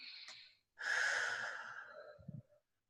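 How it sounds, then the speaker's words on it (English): A person draws one long, deep breath in with an audible rush of air, followed by a brief soft exhale and small throat sounds, close and intimate with no speech. "just simply take a breath"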